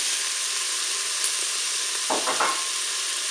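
Tomatoes dropped into a hot Cookeo multicooker pot for spaghetti, giving a steady sizzling hiss throughout with a brief louder burst of crackle near the end; no talking.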